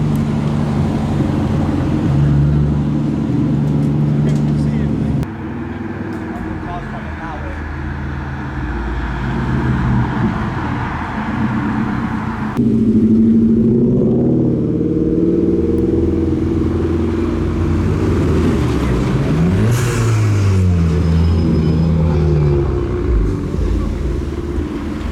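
Modified cars roll in at a car meet with police present, engines droning and revving in waves, one pulling up nearby with a rising then falling rev, over a steady traffic bed with scattered clatter.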